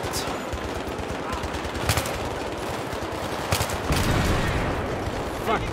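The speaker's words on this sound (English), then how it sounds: "Keep shooting!" Rapid automatic gunfire from the Battlefield 3 video game campaign, sustained bursts of shots with a few louder cracks, steady and close, with a voice talking over it.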